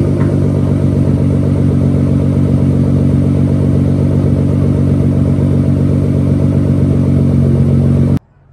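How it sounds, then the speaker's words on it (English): A Nissan 300ZX twin turbo engine runs with its exhaust loose, giving a steady, loud, rumbling idle with a rattly edge, close by, before stopping abruptly near the end. "That was the car running with the exhaust like on."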